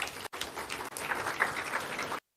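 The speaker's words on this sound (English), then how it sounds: "Another round of applause for Chief." An audience claps at the Safaricom Chapa Dimba Season 5 launch event, a short dense burst of applause with cheers rising mid-way before it cuts off abruptly.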